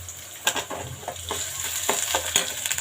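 Urad dal and mustard seeds fry in hot oil with small ginger pieces while upma is made from wheat rava. A steady crackling sizzle runs throughout, with a few sharp pops and stirring clicks.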